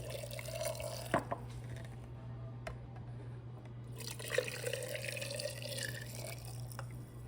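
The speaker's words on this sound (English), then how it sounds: "Let's, for now, fill our jars up." Pickling liquid poured into jars of eggs, a soft, faint trickle and splash of liquid with a few drips, close by over a low steady hum.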